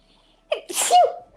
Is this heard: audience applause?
no